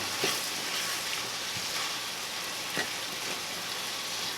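Onion cooking in a pan for a pasta with broccoli rabe, giving a steady, moderately loud sizzle with faint crackles and occasional soft pops throughout, no voices over it.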